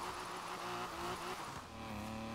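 A car engine revs hard and steadily in Forza Horizon 4 during a drift event, a loud, sustained engine note that dips briefly and climbs again, with no voices.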